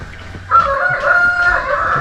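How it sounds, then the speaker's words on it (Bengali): A rooster crows outdoors at a park in Kalimpong, one drawn-out call rising over faint background noise, fairly loud and close. "তার সঙ্গে মুরগি ডাকছে, মুরগি মোরগ কিছু একটা হবে মুরগি।"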